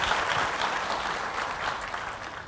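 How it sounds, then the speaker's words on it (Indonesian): A church congregation applauding, a full steady burst of clapping filling the short moment at moderate loudness. "Beri tepuk tangan yang meriah buat Tuhan"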